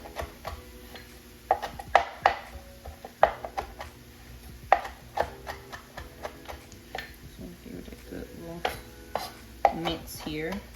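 A knife mincing fresh herbs on a cutting board while making Southern cornbread dressing, with crisp chops landing in uneven bursts, each a sharp close tap on the board and pauses between them.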